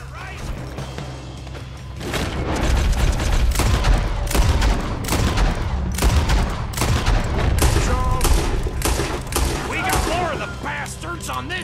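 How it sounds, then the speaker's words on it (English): Dense gunfire shootout in Red Dead Redemption 2, with rapid volleys of loud shots and booming impacts running almost nonstop from about two seconds on, over a low rumbling bed. "Looks like we're shooting our way out of here,"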